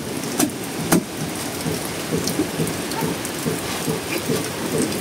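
Heavy rain pours down in a steady dense hiss, pattering on a nearby surface, with occasional louder drips and splashes punctuating the continuous downpour.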